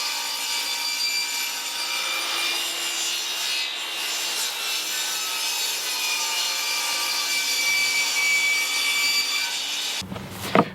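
A hand saw cutting through a wooden board for rabbit nesting boxes, a steady rasping stroke-by-stroke rhythm close up for about ten seconds, ending with a brief knock as the cut finishes.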